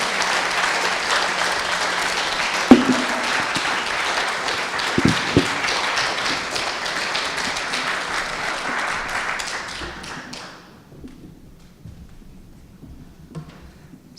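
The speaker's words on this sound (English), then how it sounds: "we want to give him a round of applause" Sustained audience applause fills a civic design lab event hall, loud and dense for about ten seconds before thinning out into scattered claps and quiet room noise.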